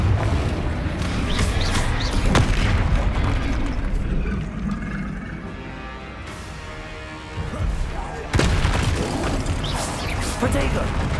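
A Confringo fire-blast spell explodes in Hogwarts Legacy with loud crashing bursts over dense, continuous game noise, with a sharp impact hitting near the middle.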